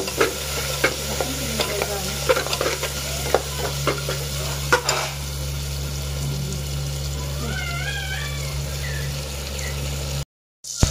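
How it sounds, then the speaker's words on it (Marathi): Onions frying in a pan for Maharashtrian egg masala khichdi, with a steady close sizzle and repeated scraping stirs through the first half, then quieter frying and a brief cat-like squeak before a short cutoff. "आता आपला चांगला कांदा शेकलेला आहे, कांदा एकदम नरम झालेला आहे"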